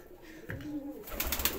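A domestic pigeon coos low and soft, close by, followed by a brief flutter of movement, with no talking.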